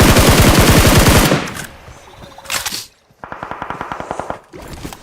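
PUBG Mobile gunfire comes in rapid automatic bursts, one long loud stream followed by several shorter volleys with brief gaps between them.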